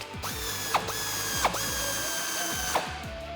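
A ratchet wrench with a 19mm socket works a rear leaf spring bolt on a Toyota Tacoma, producing repeated close clicking runs of the pawl with a few sharper knocks between strokes, no talking.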